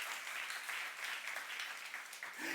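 A church youth congregation claps in steady applause during a sermon, a continuous patter of many hands with no talk over it.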